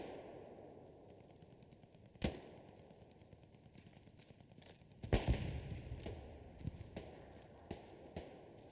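Gunfire from the WWII shooter game Hell Let Loose in a squad line battle, several sharp shots and short bursts ringing out at mid distance over a steady ambient battlefield rumble, with one louder cluster in the middle.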